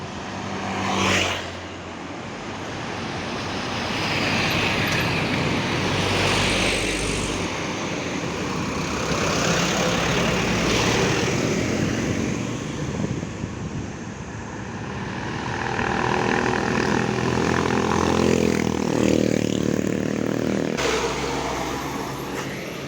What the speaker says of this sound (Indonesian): dari arah Tasik ada AKDP minibus dengan tujuan Tasik Purwokerto